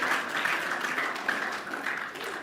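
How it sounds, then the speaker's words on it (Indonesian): A room full of people at a talk applauds together, a loud continuous patter of clapping that holds steady throughout with no speech over it. "tepuk tangan untuk kita semuanya"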